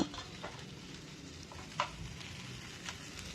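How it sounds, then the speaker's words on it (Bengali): Curry leaves with crushed ginger, garlic and green chilli fry in hot oil, giving a faint, steady sizzle with soft crackles and an occasional light stir or scrape against the pan. "কারি পাতাটা দিয়ে আমি আদা রসুন যেটা থেতো করে রেখেছিলাম ওটা আর কাঁচা লঙ্কা দিয়ে একটু ভেজে নেব"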